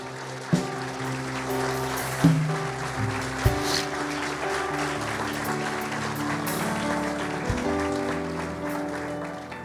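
A Spanish-speaking church congregation applauds during a sermon, with sharp bursts of clapping rising over sustained instrumental music that plays throughout.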